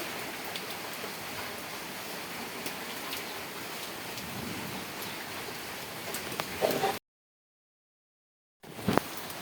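Heavy rain pours steadily at a village house, a dense even hiss that runs for several seconds before a brief gap and a short return.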